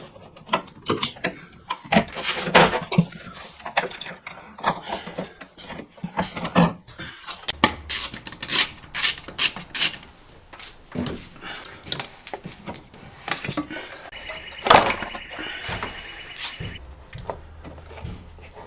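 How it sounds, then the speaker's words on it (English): Hands work on the intake of an Audi RS3 engine, a run of clicks, clunks, ratcheting tool sounds and plastic rattles at close range, uneven and busy, with no talking. "So we'll start taking off this integrated engineering intake."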